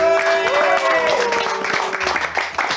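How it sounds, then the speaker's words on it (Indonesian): Audience applause greets the PUBG Mobile esports team Genesis Dogma, PMPL champions, mixed with tonal music and a lively host voice over the clapping. "Tepuk tangan buat Genesis Dogma."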